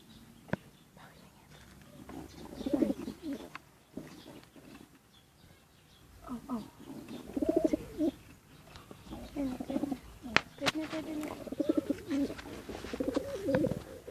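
Pigeon cooing in soft, repeated low phrases across the span, with faint rustling and clicks around it and quiet whispery voices at times.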